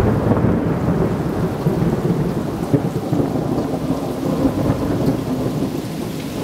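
Deep, continuous thunder rumbles on with steady rain, loud and low throughout with no pauses.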